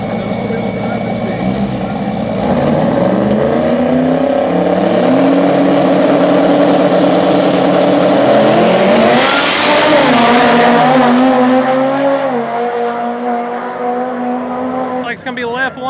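A turbo 4G63 all-wheel-drive car and a turbo Mustang at a small-tire drag race: loud, close engines roaring and revving, the pitch climbing steadily through the run, peaking around the middle, then easing off as the cars pull away.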